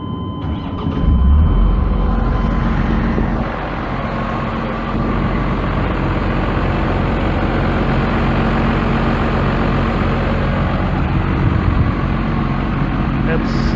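A car engine with a blown head gasket idling close by, a steady low rumble that holds evenly throughout, with someone talking over it.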